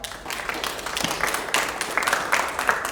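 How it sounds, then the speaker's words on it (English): A room full of staff clap for about three seconds at a company all-hands meeting for Pelor Outdoor, a steady, moderately loud patter of many hands with a few sharper claps standing out. "Can I get a round of applause?"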